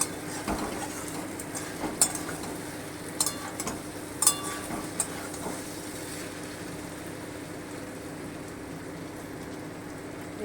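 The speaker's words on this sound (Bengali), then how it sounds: "এই যে আমি আর একটু নেড়ে দিচ্ছি আমার মাছে সেদ্ধ হয়ে গেছে" Fish is stirred in a pan, with a few sharp utensil clinks and scrapes against metal early on and a soft, steady cooking hiss underneath that settles into quiet simmering.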